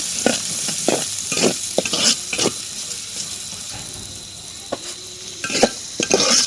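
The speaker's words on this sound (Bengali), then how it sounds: "পেঁয়াজ আর রসুনটাকে আমি বাদামি রং করে ভেজে নেব" Onion and garlic fry in a pan, giving a continuous sizzle broken by repeated scraping and stirring strokes, up close and fairly loud with no voices.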